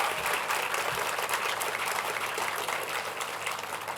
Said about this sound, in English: It's perfectly acceptable to give a giant round of applause to everybody involved in that video.